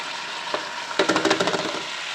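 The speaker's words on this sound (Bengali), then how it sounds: "দিয়ে এটা আমি বেশ কিছুক্ষণ একটু কষিয়ে নেব" Chicken is sautéed in a pan with ginger-garlic paste, cumin, coriander, chili, turmeric and salt, a loud close sizzle overlaid by a rapid burst of rhythmic spatula scrapes and stirs.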